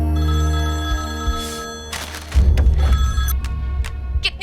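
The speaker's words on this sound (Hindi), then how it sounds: "फोन।" A telephone bell rings in sustained tonal bursts, followed by a brief rustle and a few sharp clicks and knocks nearby.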